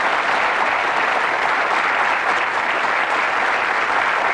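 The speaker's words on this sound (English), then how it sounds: "Round of applause." A television game show studio audience applauds steadily, a dense, even clapping from many hands that stays loud for a few seconds.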